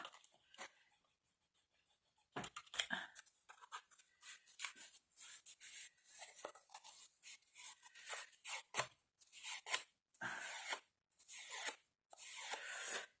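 Material being cut by hand for a vintage suitcase craft, heard as a run of close, crisp snips and rustles in quick, irregular bursts after a quiet start.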